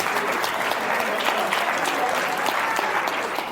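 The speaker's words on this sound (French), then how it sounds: "Rire. Applaudissements." Steady, dense audience applause fills a theater during a stage performance, many hands clapping evenly at a constant level throughout, with no break or voice on top.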